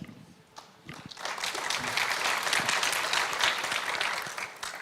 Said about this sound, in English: Wanted to wait for your applause to end.